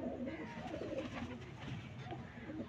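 A female breeder pigeon coos faintly in a Lahore loft, soft repeated calls over a low background murmur.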